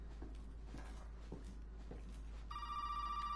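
A telephone rings inside the horror video game Resident Evil 7, its steady electronic bell tone starting partway through and carrying to the end over low ambient hum and a few soft thumps.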